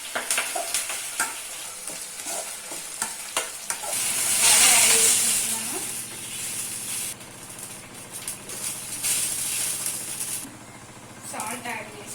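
Upma cooking in a pan gives a soft sizzle with scraping stirs, then a louder hiss as curry leaves hit the hot oil before it settles back to a gentle fry; a person talks over parts of it.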